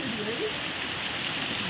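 Courtallam waterfall gushing and crashing onto rock, a steady dense roar of falling water close by, with a voice shouting briefly over it.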